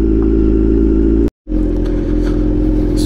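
A superbike motorcycle riding off-road on grassland produces a loud, steady engine drone with a strong low rumble, cut by a sudden brief dropout before the engine noise resumes, rougher and clattering.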